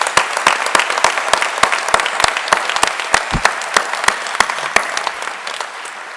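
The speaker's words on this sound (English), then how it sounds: "Big round of applause for them." An audience at a firefighter recruit graduation ceremony claps in sparse, loud, distinct hand claps that gradually thin out and fade toward the end.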